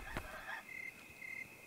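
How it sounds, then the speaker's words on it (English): Chickens in a coop inside the Yomawari: Night Alone horror game give a few faint, short clucks and squawks against a quiet, still background. "Oh, it's a chicken coop!"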